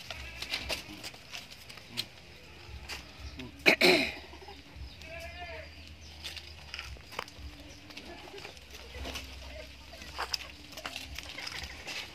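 Goats in the Solo region of Java, a nearby bleat standing out among farmyard rustling, with a person coughing and throat-clearing and scattered murmured speech through the background.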